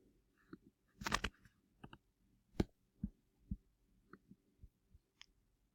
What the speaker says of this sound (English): I want you to see more of the typing